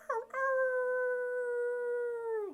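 A person imitates a long, sustained wolf howl, holding it steadily at close range and letting it fall off at the end.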